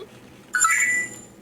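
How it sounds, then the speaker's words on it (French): A telephone rings in the Five Nights at Freddy's video game, one bright electronic warbling ring that starts abruptly and lasts under a second, close and clear with no talk. "Par contre, c'est un téléphone qui sonne."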